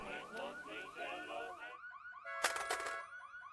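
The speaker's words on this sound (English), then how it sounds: "it's just a car alarm" A car alarm blares in a tense lull, a repeating warbling tone cycling rapidly through pitch for nearly two seconds, then a short gap before a brighter, harsher burst of alarm tones and chirps sounds loud and close.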